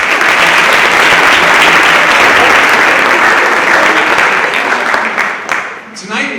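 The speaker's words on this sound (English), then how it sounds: "So let's give the students a round of applause" A large audience at an evening school celebration gives the students a sustained round of applause, dense and loud throughout, thinning out slightly near the end.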